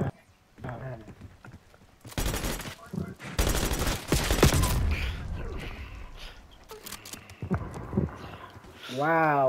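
Bursts of rapid gunfire in the Black Ops 6 shooter game, dense volleys of automatic shots that are loud and close, with a player talking over and between the shooting.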